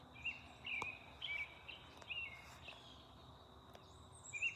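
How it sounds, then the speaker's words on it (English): Faint birds chirp and sing in short phrases at a distance, with a soft background hiss and no talking. "Regina, we'd like to hear the birds if you quit talking."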